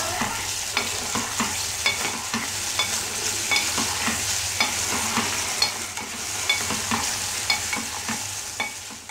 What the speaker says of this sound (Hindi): वापस से हिला लेंगे इसको।